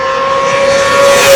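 A 2024 Honda CBR600RR sports bike screams flat out in fifth gear down a race track straight, a loud, sustained high-pitched engine note climbing gently.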